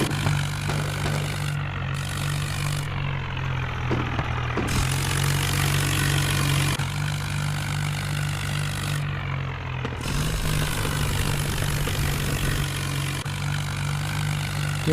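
A heavily loaded tractor pulling a trolley in the Indian Vehicles Simulator game, its engine running continuously with a steady low drone and rough clattering texture, loud and close, with no voices.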